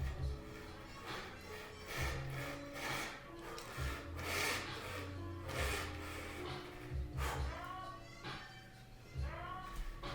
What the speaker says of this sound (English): You'll notice here how slow the cutting is going now. That's because the blade is so dull.